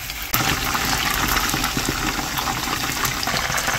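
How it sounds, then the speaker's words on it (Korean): Jjapagetti cooking in a pan gives a steady, dense bubbling and sizzling hiss that begins abruptly and then holds at an even level, close by, with no voices. "보글보글 지글지글 소리 좋죠?"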